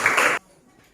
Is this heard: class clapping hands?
yes